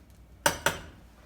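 A pasta fork clinks twice against a metal pot of edamame pasta in a home kitchen, two sharp, close metallic taps about a quarter second apart, with no talking.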